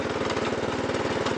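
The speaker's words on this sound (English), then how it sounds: "It's got a Tecumseh 8-horse industrial engine." A 1986 Snapper riding mower's Tecumseh 8-horsepower industrial engine runs close by at a steady, even throb with a rapid regular pulse and no other sounds.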